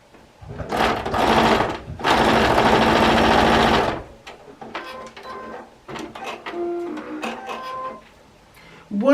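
A sewing machine runs a quarter-inch seam in two loud, steady bursts of rapid stitching, followed by quieter stop-start mechanical clicks and handling noises close by.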